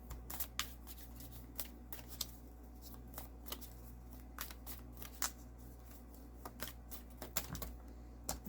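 A deck of oracle cards is shuffled during a tarot reading, producing soft, irregular riffling clicks and taps scattered across the clip, close and quiet, with no talking.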